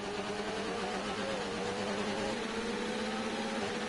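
A racing-game car engine held against the rev limiter, a steady buzzing drone with a stuttering, pulsing tone that stays constant throughout, alone without talk.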